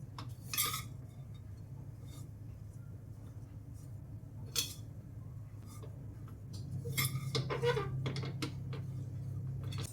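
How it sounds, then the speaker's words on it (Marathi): Grated coconut is roasted in a pan over a low flame and stirred continuously, giving a soft scraping and light clinking of a spatula against the pan over a steady low cooking hum. "खोबरं भाजताना छान भाजून घ्यायचं आहे एकसारखं हलवत राहिलं तर खाली लागतही नाही"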